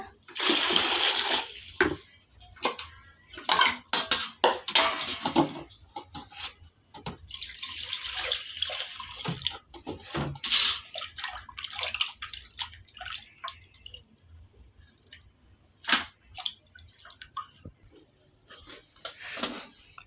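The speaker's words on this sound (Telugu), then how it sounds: "ఇట్లా బాగా రెండు మూడు సార్లు కడిగేసి తర్వాతకి వేసేస్తా" Chicken pieces are washed in water at home, with bursts of splashing and pouring that come and go in uneven spurts. Quieter gaps and occasional drips fall between them.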